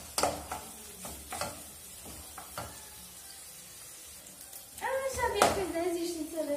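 Bacon frying in a pan ahead of sliced calabresa sausage: light stirring knocks over a soft sizzle, then the frying grows louder and denser toward the end, with a person talking over it.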